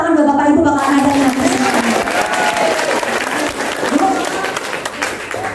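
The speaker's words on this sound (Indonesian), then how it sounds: "Tepuk tangan bapak ibu" An indoor audience applauds at a LiveGood business seminar, a loud, steady wash of clapping that lasts the whole stretch, with a presenter's voice speaking over it.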